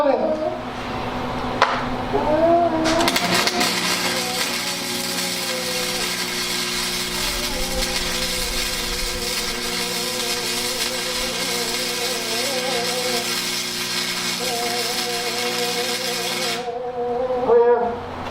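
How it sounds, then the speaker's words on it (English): Flux core welding on a welding cart build gives a sustained, harsh crackling buzz that starts a few seconds in and runs steadily for about fourteen seconds before stopping, with a voice speaking near the start and end. "Alright, welding."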